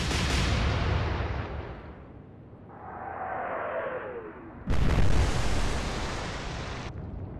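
Naval battleship guns in the video game Atlantic Fleet fire a heavy blast that rumbles away, then a shell whistles in flight before a second deep, loud boom lands close.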